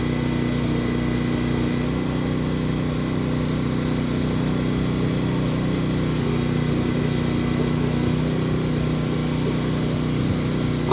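A firefighters' hydraulic rescue tool cuts through a vehicle's roof during a rescue drill in Rio de Janeiro, giving a steady, loud motorised drone that runs unbroken for the whole stretch.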